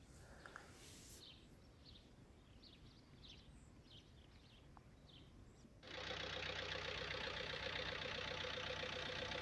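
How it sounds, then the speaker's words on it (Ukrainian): A 1999 Opel Astra G with a 1.7 diesel engine and 322,000 km idles after faint birdsong and quiet ambience, then its steady, rattling diesel clatter comes in suddenly and loud up close, running evenly to the end. "Зараз чуємо, як працює гарно дизельний мотор."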